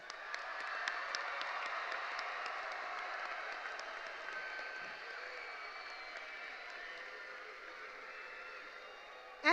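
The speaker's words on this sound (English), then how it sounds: "Let's give our graduates another round of applause." At a Deep Creek High School class of 2025 graduation ceremony, a large audience gives sustained applause for the graduates, a steady, slightly distant wash of clapping with occasional sharper claps.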